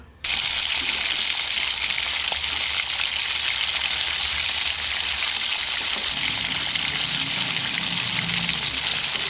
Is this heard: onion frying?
yes